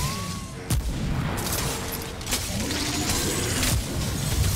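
Gunfire in the video game Remnant from the Ashes, a loud dense spread of shots and booming impacts running steadily through the whole stretch with no pauses.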